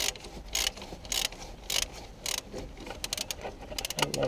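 A wrench clicks and ratchets in short bursts while loosening the 16mm centre bolt of a guide roller on a VW Sharan timing belt job, close and moderately quiet, with no talking.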